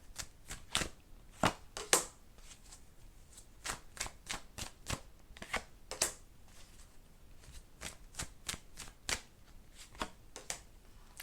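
A deck of tarot cards is shuffled and drawn up close, with crisp riffling and sharp slapping bursts in an irregular rhythm and no voices.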